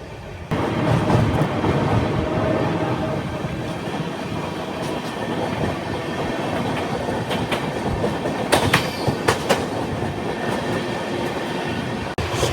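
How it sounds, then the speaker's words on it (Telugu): Pinakini Superfast Express cruising between Bapatla and Chirala, a steady loud broadband rumble of the train in motion with rhythmic clickety-clack and a few sharper rail clatters near the end, no voices. "బాపట్ల నుంచి చీరాల వెళ్ళే మధ్యలో మన క్రూజింగ్ స్పీడ్"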